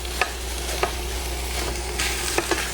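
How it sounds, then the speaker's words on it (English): Ground beef browning in a pan on an induction cooktop, with a steady sizzle and frying hiss broken by a few sharp scrapes of stirring, close up and with no voices. "All we really want to do is just brown the beef."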